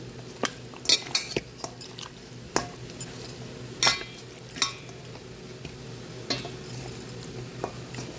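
Chicken leg and breast pieces being mixed with saffron food colour in a bowl, irregular clinks and scrapes of a spoon against the dish over a quiet background, with sharper knocks spaced out unevenly.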